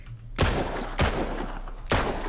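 In the survival video game Mist Survival, three loud gunshots ring out at irregular intervals, each a sharp close blast with a rumbling decay under constant background noise.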